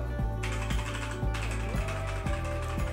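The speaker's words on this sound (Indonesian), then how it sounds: "Ada suara keyboard." Steady mechanical keyboard clatter from red switches, keys clicking in a quick uneven rhythm, close up with a low hum underneath, picked up by a CKMOVA SUM-5 USB microphone.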